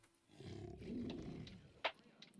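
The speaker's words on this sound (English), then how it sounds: "We got the roar animation." A deep, drawn-out roar from an Udanoceratops in the video game Dinosaur Simulator swells for about a second and fades, ending in a short sharp call.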